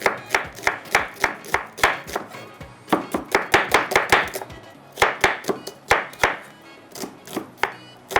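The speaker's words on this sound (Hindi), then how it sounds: "इतनी देर में टमाटरों को कट करते हैं, जब तक कि आलू के भी 4-4 टुकड़े करेंगे" A knife chops tomatoes and potatoes on a board, sharp close knocks falling in quick rhythmic runs separated by brief pauses, with no voices.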